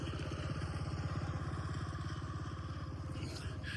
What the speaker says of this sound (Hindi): एक और बाइक आ रही।